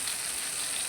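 Fish fries in hot oil in a home kitchen, a dense, even hiss of bubbling oil held close and steady for a brief moment, with no talk.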